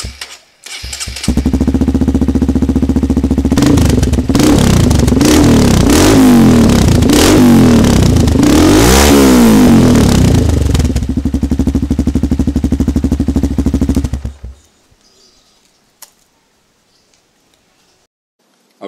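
Motorcycle fitted with a Norifumi RV1 Shorty aftermarket exhaust revving hard and close for about thirteen seconds, with a deep burbling throb that rises and falls through several surges before cutting off into near silence.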